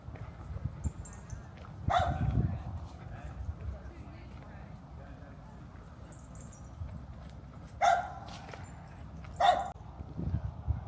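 A dog barks a few scattered times in the grounds of Kings Weston, a country house, early in the morning, the barks distinct but moderately distant over low outdoor rumble and a faint voice.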